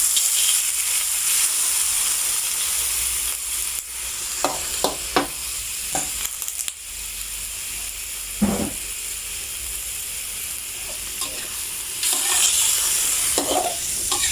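Chicken giblets and garlic sizzle steadily in a hot pan while a utensil scrapes and stirs now and then, with no talking.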